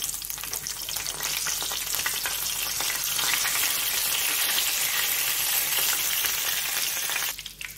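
Whole spices, cloves, cinnamon, cardamom, black peppercorns and a bay leaf, sizzle and crackle steadily in hot oil for Bengali vegetable fried rice, a loud continuous fry heard close up, alone, easing off near the end.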